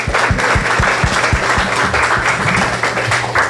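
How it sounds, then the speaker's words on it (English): A crowd applauds steadily, dense overlapping claps filling the room at full volume from start to finish. "Let's all just give them a clap."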